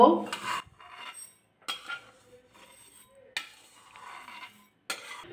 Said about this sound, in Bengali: নাড়াচাড়া করে কিন্তু ভাজা করে নিচ্ছি একদম হালকা করে